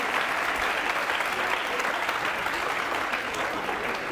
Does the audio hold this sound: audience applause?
yes